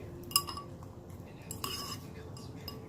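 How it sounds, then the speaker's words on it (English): A metal utensil stirs eggs in a dish, making a few light clinks and scrapes against the bowl, one sharper clink early on and softer clatter after, at close range and quiet. "Stir the eggs up again."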